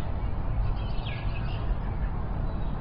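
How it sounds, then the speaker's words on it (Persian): A sparrow gives a few short chirps, brief and not loud, over a steady low rumble of background noise. "پدر اون یه گنجشکه."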